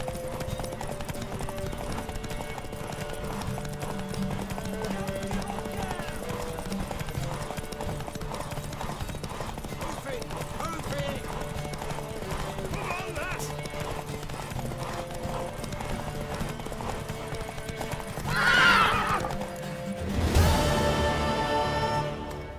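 Rhythmic hoofbeats clip-clop steadily over a musical backdrop, followed by a horse's whinny near the end, with sound effects from the game The Witcher 3: Wild Hunt.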